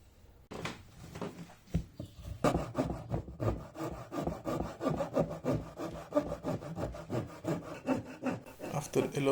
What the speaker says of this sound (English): shaping it with my trusty rasp